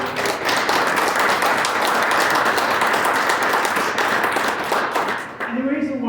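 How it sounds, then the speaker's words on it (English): Audience applause at a Tennessee state senator's talk fills the whole stretch as a dense, steady wash of clapping that thins near the end as a voice returns. "Can we give him a round of applause?"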